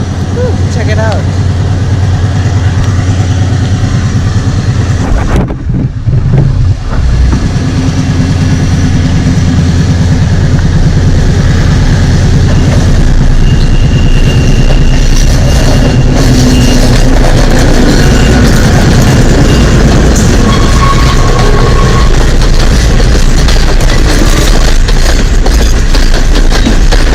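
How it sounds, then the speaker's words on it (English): Diesel train rumbling steadily across the Nine Arches Bridge in Ella, Sri Lanka, a loud continuous engine drone and rolling wagons with a brief dip, while people talk over it. "there's a train coming from there"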